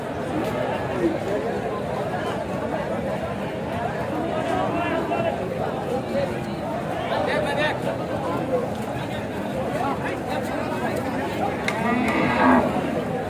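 Sahiwal bulls and other cattle at a busy livestock market, with moos and lowing among steady crowd chatter and someone talking nearby throughout.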